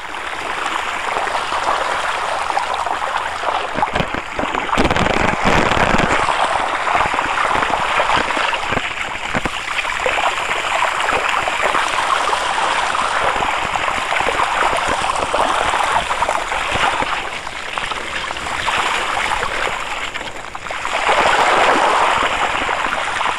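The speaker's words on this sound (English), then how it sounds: "We're just about to go through this river on my mountain bike" A mountain bike splashes through the Carnon River in Poldice Valley, Cornwall, with a continuous, loud rush of flowing water and surges of splashing close by.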